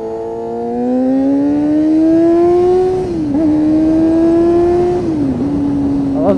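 A 1992 Honda CB motorcycle on a ride to university, with lane splitting along the way. The engine holds a loud, close, steady drone that climbs in pitch, dips briefly around shifts, then climbs again.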